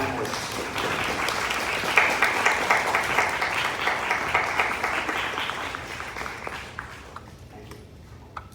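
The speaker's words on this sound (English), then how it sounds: "How about a great round of applause for all our panelists?" A room audience applauds panelists at a civic event, dense clapping that holds steady for several seconds and then thins out and fades.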